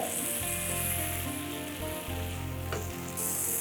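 A pan of tomato compote seasoned with salt, black pepper and dried mixed herbs simmers and reduces on the stove, giving a steady, close sizzle and bubbling with no talk.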